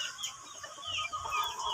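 Backyard gamefowl, pumpkin hatch stags, cluck and murmur close by in a short run of soft, overlapping bird calls with no talk.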